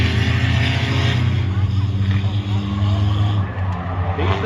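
A V6 race car drives hard into a corner on the high banks of Oyster Bay Speedway, its engine snarling loudly and steadily with other cars close by and a commentator talking over it.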